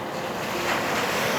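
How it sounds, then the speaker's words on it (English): Ocean waves washing onto the shore at night during an outdoor vow renewal, a steady, close rush of surf mixed with gusty wind buffeting the microphone, with no voices. "the sounds of the waves, the beautiful night we have"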